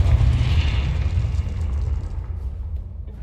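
Confringo fire spell detonating in Hogwarts Legacy: one heavy, deep boom with a brief bright crack, fading into a rumbling tail over about three seconds.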